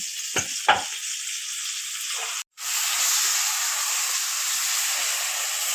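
Green chillies and ground spice paste frying in a pan, a loud continuous hiss and sizzle with a couple of early stirring knocks and a brief dropout midway.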